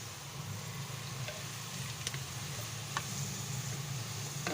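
Onions browning in a pan for karhi pakora give a steady, quiet sizzle with faint occasional ticks and pops, continuous and alone with no talk.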